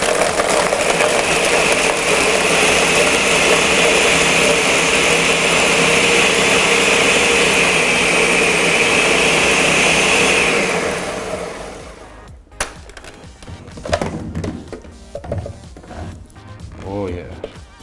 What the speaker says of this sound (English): We're making a pulse it first, and then we're going to run it on the blender.